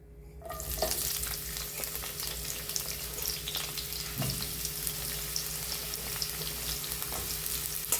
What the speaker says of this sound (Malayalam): ആദ്യം സബോള നമുക്കൊന്ന് വഴറ്റിയെടുക്കാം.